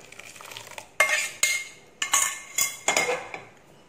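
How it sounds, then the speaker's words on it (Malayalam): Cooked lentils added to vegetable pieces for sambar and stirred, a series of sharp metallic clinks and scrapes of a spoon against a steel pot, about six distinct strokes over a soft background, close with no speech. "അല്ല ഇനി പരിപ്പ് നമുക്ക് ഈ കഷ്ണത്തിലോട്ട് ഒഴിച്ചു കൊടുക്കാം."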